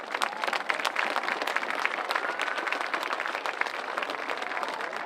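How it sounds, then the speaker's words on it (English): A crowd at a high school varsity football game applauds the homecoming court steadily, with many hands clapping in a dense, continuous patter at moderate distance. "Big round of applause for everybody"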